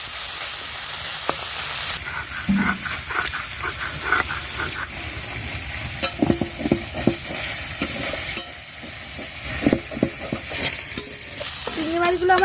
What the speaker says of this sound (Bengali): চিংড়ি মাছগুলো আমার ভাজা হয়ে গেছে